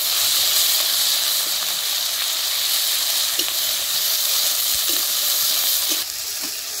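Ground onion and garlic paste sizzles in hot oil with a loud, steady frying hiss, a few soft clicks and pops breaking through as it cooks, dropping slightly in level near the end.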